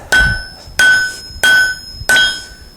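Four evenly spaced hammer blows ring out on hot steel as it is forged into a long taper for a drift, each strike a sharp metallic clang with a bright ringing tail, loud and close.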